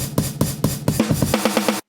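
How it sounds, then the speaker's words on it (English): An unfiltered drum loop of kick samples plays on its own, a dense, full-range pattern of repeated thuds with steady pulsing hits over about two seconds before stopping abruptly. "Without the filter, it just sounds like this,"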